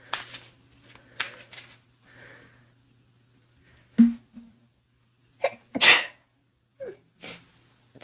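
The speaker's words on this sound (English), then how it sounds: "Oh, I feel like I'm going to sneeze." A single sharp, close human sneeze bursts out after quiet stretches broken by soft card shuffling and light rustling.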